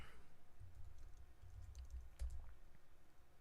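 Keystrokes on a computer keyboard, a quiet run of soft, uneven taps with one slightly louder clack near the end, heard alone against a low background hum.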